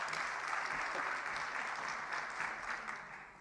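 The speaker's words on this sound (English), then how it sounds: "Let's give her a big round of applause" An audience at a budget review dinner session claps in a steady, even round of applause at moderate distance, holding for several seconds before easing slightly.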